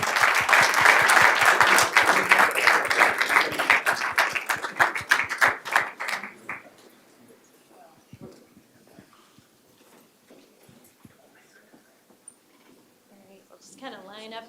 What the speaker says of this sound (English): how about a round of applause while they come up?